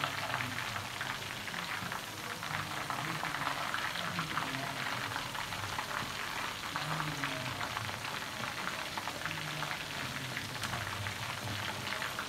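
Chicken fries in a pan with a steady, dense sizzle and crackle that holds at an even level throughout, with no voices over it.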